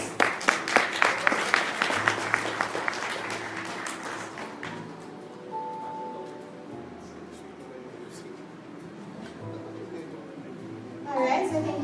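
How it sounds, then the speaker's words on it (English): An audience gives a round of applause at the unveiling of the National Cybersecurity Plan 2022, with clapping strong at first and then fading after a few seconds into a quieter room with faint voices. "Another round of applause, please."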